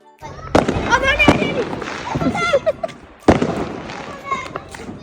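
Fireworks bursting outdoors on Bonfire Night in the UK in November: a few sharp cracking bangs with crackle and whistling between, over background voices.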